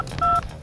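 Telephone keypad tones in a quick short sequence as a number is dialed, one clear sustained beep followed by the start of another, close and loud, with no talking.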